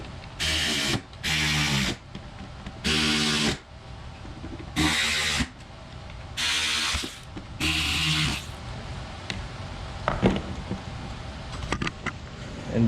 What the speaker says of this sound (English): So now I'll go ahead and put the mounting screws back in it,